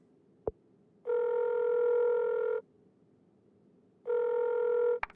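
Two long electronic telephone ring tones sound in a quiet room, each lasting about a second and a half, with a sharp click before the first and another at the end.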